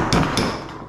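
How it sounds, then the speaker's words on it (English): A hammer taps pegs into a worktop bolt jig, two sharp close knocks about a quarter second apart, followed by a fading ring. "so I have to use a hammer to get mine"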